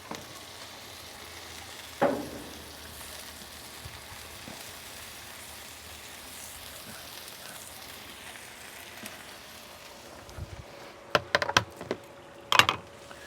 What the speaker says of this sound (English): we'll just go right on the griddle with our green onions